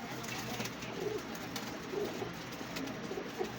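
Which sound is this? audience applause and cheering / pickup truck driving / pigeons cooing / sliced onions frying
pigeons cooing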